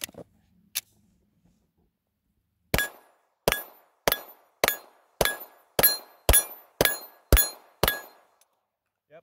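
Ten sharp gunshots from a Glock 34 9mm pistol striking steel targets, fired in a quick, steady rhythm after a single earlier shot, each crack followed by a brief metallic ring.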